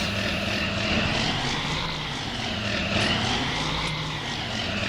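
Farm tractor engine in Farming Simulator 19 running steadily at close range, a dense continuous rumble with a faint higher whine, no talking.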